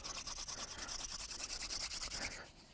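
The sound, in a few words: wooden spindle spinning in a pilot hole for fire-making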